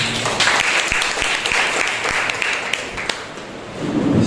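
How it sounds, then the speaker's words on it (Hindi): A church congregation at a Sunday morning service claps loudly and continuously, a thick steady wash of applause with a few sharper individual claps standing out. "आइए हम सब उस जिंदा और पवित्र परमेश्वर के लिए जोरदार तालियां हो जाए।"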